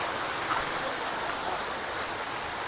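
Steady broadband rush of water tumbling down Vibhuti Falls, a waterfall in Uttara Kannada, continuous and fairly loud with no talk over it.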